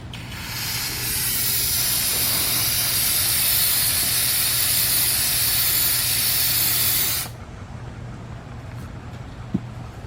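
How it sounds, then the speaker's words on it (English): Carburetor cleaner blasts from an aerosol can in a loud, steady hiss for about seven seconds during work on a knocking 3.6 engine of a 2005 Cadillac CTS, then cuts off abruptly, leaving faint shop hum and a small click. "Let's get some carburetor cleaner."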